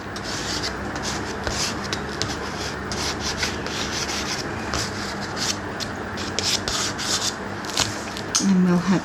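Soft pastel drags across paper in a rough sketch of a beach scene with sand and cliffs, making close, repeated scratchy rubbing strokes in a steady rhythm, louder near the end, with no one speaking.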